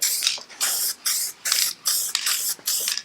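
Short repeated hissing bursts of wheel silver aerosol paint lightly dusted onto Citroën 2CV engine parts, six evenly spaced close sprays in quick rhythm with brief pauses between.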